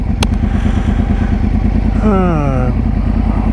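A 2013 Yamaha R1 idles at a light with the clutch held, a close, loud, steady engine throb with a brief rising whine partway through, and a voice speaking over it.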